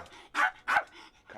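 A dog barks in two loud, close bursts with softer vocal sounds between them, standing alone with no talking over it.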